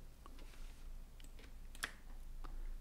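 Computer keyboard keys pressed in a quiet room, a few soft scattered clicks with one sharper tap, faint and close.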